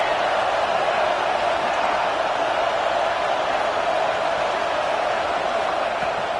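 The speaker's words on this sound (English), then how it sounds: "this crowd is coming to help the defense" Football stadium crowd roaring in a steady, dense wall of noise as a late defensive stand builds, loud and continuous throughout with no break.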